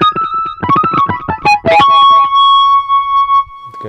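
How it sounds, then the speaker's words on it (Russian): A Roland XP-50 synthesizer plays a distorted guitar patch, a run of short, gritty chords and notes followed by one sustained, buzzing tone that rings on alone before cutting off. "гитара с дисторшеном"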